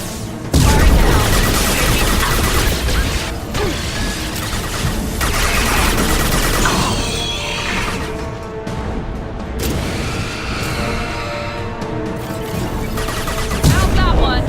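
Weapons fire aboard the Collector ship in Mass Effect 2, with dense, loud bursts of shots and booms running continuously over a busy battle backdrop.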